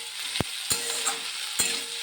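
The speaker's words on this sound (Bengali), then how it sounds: "আমার কর্তা বসছে খেতে, তাই জন্য আমি আলুটা ভাজছি তাড়াতাড়ি করে।" Chandramukhi potatoes frying in a pan late at night, a steady close sizzle broken by several sharp scraping stirs of the spatula, with no voices.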